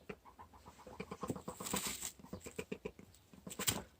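A broody four-year-old hen makes repeated soft, low clucking and purring noises in quick uneven bursts, close by, with a few brighter squawk-like peaks and no one speaking.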